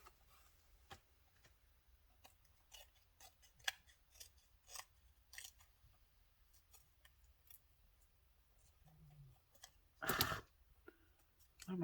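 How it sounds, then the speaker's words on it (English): Scissors snip through paper while a junk journal folding pocket is being made, quiet separate crisp clicks and snips at an irregular pace up close, with one louder burst of handling noise near the end, in an otherwise hushed room. "We'll have to cut it off."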